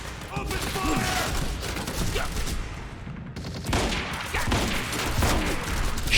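Heavy gunfire fills a firefight in the video game Quantum Break, with dense overlapping shots and bursts running throughout alongside loud game noise and voices.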